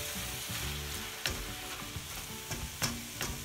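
Spinach fries quietly in a pan for dal palak, a soft, steady sizzle with a few sharp clicks and scrapes from stirring.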